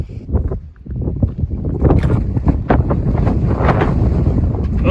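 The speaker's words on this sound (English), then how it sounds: "it's windy" Strong wind buffets the microphone on a mountain section of the Appalachian Trail, a loud, steady rumbling roar that builds and stays constant, with no voices.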